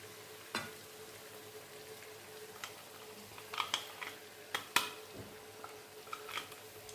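Chicken fry sizzling in a pan, with occasional scrapes and ticks from a spoon stirring the pieces; a soft steady fry under scattered sharp clicks, no talking.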